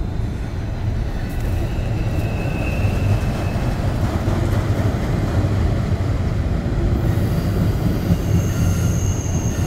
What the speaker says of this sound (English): Beautiful trains. Just listen to the sounds.